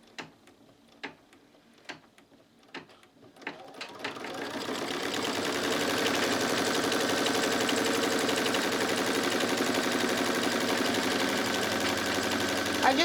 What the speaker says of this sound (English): And now the last thing is to stitch it.